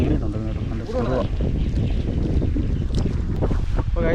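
Strong wind rushes and buffets the microphone at sea aboard a small traditional Kerala fishing boat, a loud continuous roar with a person talking over it.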